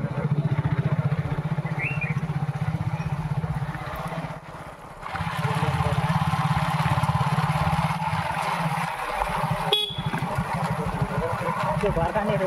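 Motorcycle ride, a steady low engine drone with passing wind noise that dips briefly midway and then resumes, while riders talk over it.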